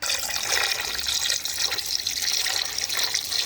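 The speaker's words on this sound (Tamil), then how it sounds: "நான் தண்ணி ஊற்றிடுறேண்ணா" Water pours steadily into a pot of spiced gravy with turmeric, a continuous splashing rush close by, without any speech.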